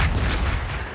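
A frag grenade explodes in the video game Gears 5: one short, heavy, broadband boom that fades within a second.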